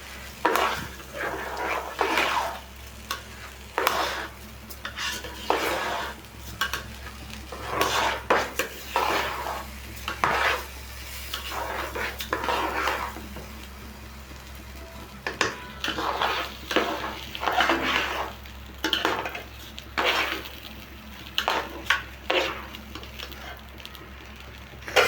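Polao rice fried in ghee in a pot, stirred with a spoon that scrapes and knocks against the metal in repeated bursts, over a soft steady sizzle, close and busy.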